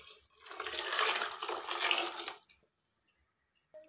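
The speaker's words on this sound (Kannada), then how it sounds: "ನಾನಿಲ್ಲಿ 2 ಗ್ಲಾಸಿಗೆ ಸುಮಾರು 4 ಗ್ಲಾಸಷ್ಟು ನೀರು ಹಾಕ್ತಾಯಿದ್ದೀನಿ" Water poured from a glass into a cooking pot for khichdi rice, a full rushing splash lasting a couple of seconds before cutting off to near silence, close and moderately loud.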